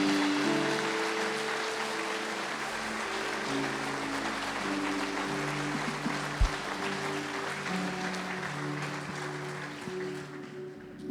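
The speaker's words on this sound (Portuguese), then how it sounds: "Dê um forte aplauso ao Senhor" Church congregation applauding, a steady, fairly quiet wash of many hands clapping together for several seconds under a low sustained hum.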